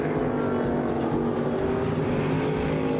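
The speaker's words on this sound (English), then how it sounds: "Engines roar, dirt flies," Race car engines roar at a dirt oval speedway, a loud continuous droning blend of several motors at high revs with no break or voices.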